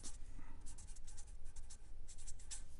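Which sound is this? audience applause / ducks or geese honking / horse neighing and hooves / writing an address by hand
writing an address by hand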